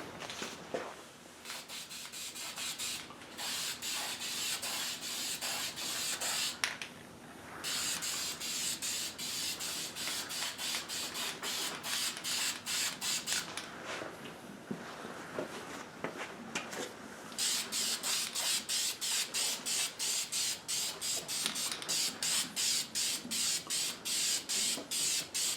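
High-temperature engine enamel is sprayed from an aerosol can onto a Honda HSS1332 snowblower auger in long, loud, close hissing bursts, broken by a few short pauses and rattling sputters toward the end.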